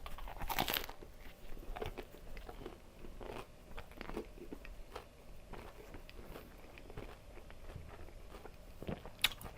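A big bite into a crusty baguette sandwich, followed by a steady run of close, crunchy chewing with irregular crackles, loud and without speech.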